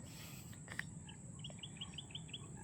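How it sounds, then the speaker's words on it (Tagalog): Birds call and chirp repeatedly in a quick series over a steady outdoor hiss, fairly faint and somewhat distant. "Ayan guys yung maingay ng mga ibon oh."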